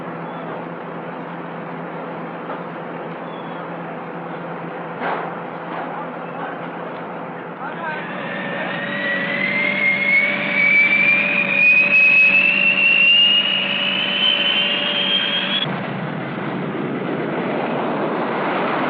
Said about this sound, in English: Also part of this massive strike force is the B-58.